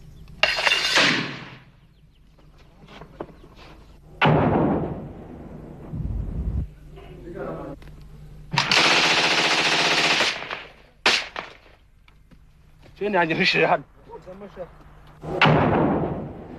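Mortar blasts and heavy weapons fire in a war zone during a rebel attack: several loud, sharp broadband bursts separated by quieter gaps, some booming and sustained, with a few crackling impacts.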